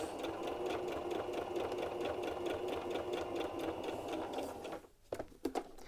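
A sewing machine runs a fast, even narrow zigzag stitch on stretchy T-shirt knit fabric for about five seconds, a close rhythmic whirring chatter that stops, followed by a few small clicks.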